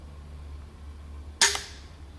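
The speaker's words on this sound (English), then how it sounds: "I'll shoot the first unwaxed bolt first." A crossbow fires an unwaxed bolt into a ballistic gelatin block, giving one sharp, loud snap with a short decaying ring, following quiet low-hum background.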